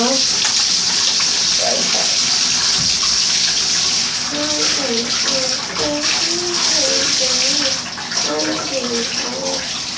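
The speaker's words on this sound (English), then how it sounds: "I'm just going to go ahead and just put my bathtub on" A bathtub fills from a running tap, a loud, steady rush of water with bubbling, while a voice talks briefly over it.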